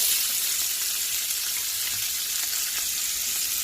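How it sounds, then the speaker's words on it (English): Onion frying in hot oil in a pot, a loud, steady, close hiss of sizzling that holds evenly throughout with faint crackles. "Next I'm going to go in with my onion."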